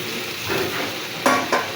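Washed dried fish tipped into a hot pan and frying, a steady sizzle with sharp bursts of spattering as pieces go in and get stirred, close and fairly loud, no talking.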